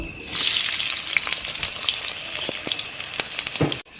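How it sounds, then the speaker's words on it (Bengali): Sliced onions frying in hot oil for birista hiss and sizzle loudly, with crackling pops and occasional stirring clatter before an abrupt stop. "তেল দিয়ে দিলাম পেঁয়াজ বেরেস্তা করার জন্য।"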